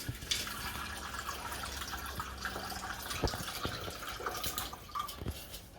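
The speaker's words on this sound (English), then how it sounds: "So I'm giving it a really good rinse with water." Rinse water tipped out of a container during a gold-recovery cleanup, with steady pouring and splashing against a sink, scattered drips, and a brief louder gush near the middle.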